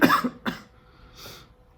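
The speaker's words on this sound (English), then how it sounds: "I have a terrible cough still going on" Two sharp, close coughs in quick succession, followed by a softer breathy exhale, with no talking.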